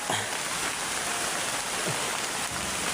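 Heavy rain pours down in a dense, steady hiss that fills the whole scene, loud and unbroken, with no voices over it.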